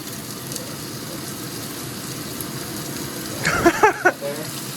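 Skin fries in a pan as its fat renders out, giving a steady, moderate sizzle throughout, with a voice briefly speaking near the end.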